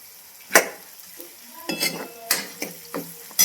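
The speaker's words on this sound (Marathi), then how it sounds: "परत फोडणी दिली जिरी मोहरी लसूण आणि कढीपत्ता सगळं टाकून कांदा आता भाजायला टाकलाय" Onion dropped into hot tempering oil with cumin, mustard seeds, garlic and curry leaves, frying with soft sizzling and several sharp utensil scrapes and clinks as it is stirred, close by and without talk.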